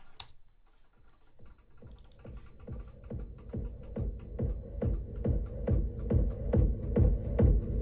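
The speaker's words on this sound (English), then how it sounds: "I've got a kick drum." In a dubstep build-up, a distorted, EQ'd kick drum with heavy reverb thumps in a steady, accelerating pulse, growing louder toward the end beneath a thin high tone.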